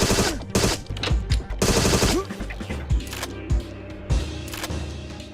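Gunfire in a shooter video game among well-dressed gangsters, loud repeated shots in quick bursts and single cracks through a busy mix, with brief speech in places.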